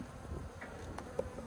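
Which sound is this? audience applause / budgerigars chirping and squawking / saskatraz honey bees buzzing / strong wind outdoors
saskatraz honey bees buzzing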